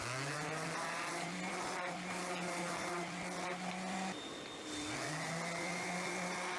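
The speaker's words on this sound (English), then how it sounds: "before I start assembling, I'm going to sand each piece quickly" A power sander whirs loud and close over scrap wood pieces, a steady motor whine that shifts pitch as it presses into the wood, briefly easing off near the middle before resuming.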